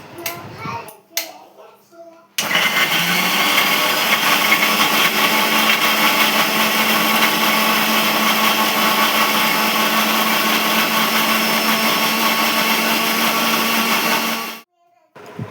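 An electric mixer grinder whirs loudly and steadily for about twelve seconds, blending spice paste for a jackfruit and prawn curry, starting abruptly after a few brief knocks and cutting off near the end.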